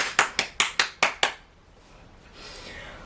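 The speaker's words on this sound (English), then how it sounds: "Round of applause." Six sharp, evenly spaced claps ring out in quick succession, close and crisp, then stop, leaving a faint room tone.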